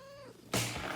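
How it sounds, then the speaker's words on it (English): A cat gives a single close meow with a rising, wavering tone, followed by a sudden burst of broadband rustling noise. "let me move my cat away"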